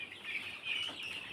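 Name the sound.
Sonali chickens clucking in a poultry shed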